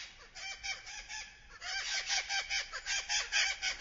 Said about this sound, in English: And here come the parrots.